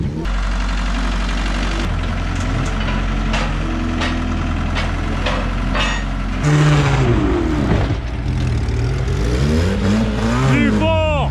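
A car engine runs loud and close, idling roughly, then revving hard with rising and falling pitch sweeps as the throttle is pushed, while voices talk over it.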